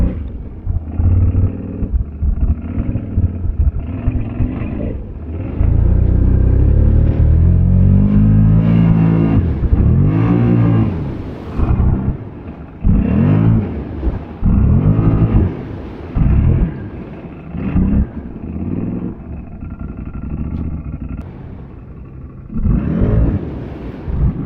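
A Polaris Sportsman 570 or Can-Am Outlander ATV at a farm-fest ATV park pulls away in gear with a loud, close engine rumble that surges and dips in repeated bursts over about twenty-five seconds.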